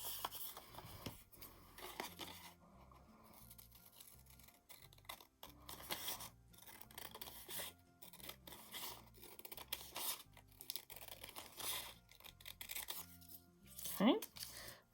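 Scissors snip repeatedly through paper for an agamograph craft project, with crisp cutting strokes and rustling paper running throughout under a person talking nearby.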